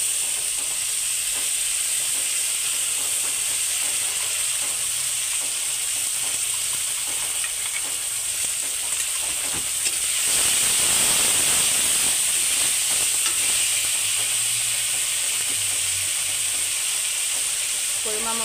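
Tomatoes and ground spice paste fry in a pan with a loud, continuous close-up hiss that swells into a brief steamy surge midway, with faint stirring underneath.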